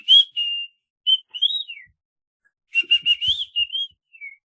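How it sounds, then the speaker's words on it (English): A person whistles to call a cat, giving short high tweeting whistles in two bursts, some sliding up and down in pitch, close and clear with quiet gaps between. "I'm going to whistle my cat over because it comes when I whistle."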